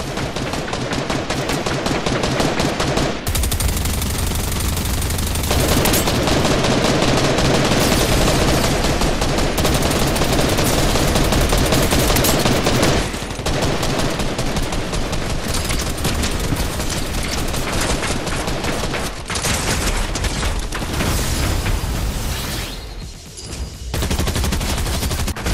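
Fortnite explosions and rapid gunfire, a dense and continuous barrage of blasts that barely lets up.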